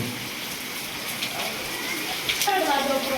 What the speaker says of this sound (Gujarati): વરસાદ પણ વધી ગયો છે